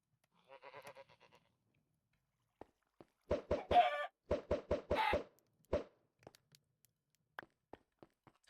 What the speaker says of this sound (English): another burnable chicken.